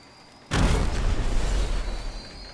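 A gas pump at a gas station blowing up in Fortnite: one sudden loud boom that opens into a sustained rumbling roar and trails off slowly.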